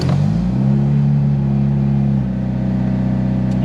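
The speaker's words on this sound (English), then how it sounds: "I'm going to show you guys just how easy it starts now that it's actually got a good battery." A car engine with a fresh battery turns over and catches quickly with the clutch in, settling into a steady, loud, close idle rumble that drops slightly in pitch after a couple of seconds.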